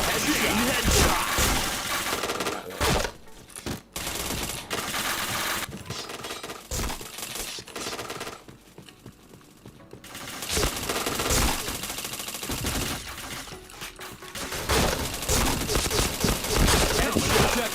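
Gunfire in the shooter game Point Blank: rapid automatic bursts and single shots crackling loudly in clusters with short pauses, mixed with other game effects and occasional voice.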